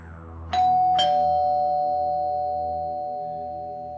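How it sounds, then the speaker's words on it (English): A doorbell chimes two clean tones about half a second apart, and the second tone rings on and fades slowly in a quiet room. "Emma rings the doorbell"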